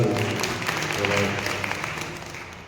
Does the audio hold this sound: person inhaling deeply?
no